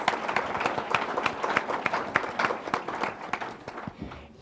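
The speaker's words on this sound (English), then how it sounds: "let's give a big round of applause to say thank you for Plato for joining us" A modest audience claps to thank a sponsor at a policy event on congressional gridlock and budget politics, with separate sharp claps audible in an uneven patter that thins out toward the end.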